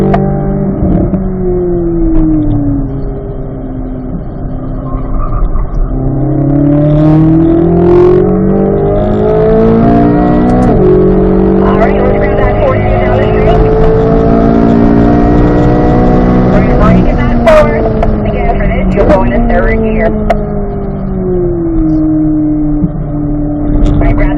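A car laps a race track, its engine loud and close throughout, revving and shifting up through the gears, with a driving coach talking over it.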